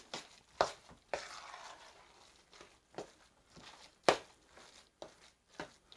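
Cornbread dressing being mixed by hand with canned broth in a bowl, soft wet squelching and stirring with intermittent sharper slaps and thumps, close and fairly quiet.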